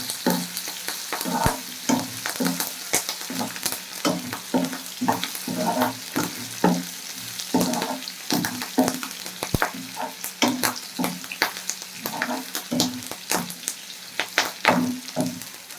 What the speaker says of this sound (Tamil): வத்தல், பூண்டு, வெந்தயம், கடுகு, கருவேப்பிலை போட்டு தாளிங்க.